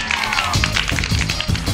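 A small crowd claps for a police inspector at a gathering in a Hindi film, giving a steady patter of hand claps that stays fairly loud and even throughout.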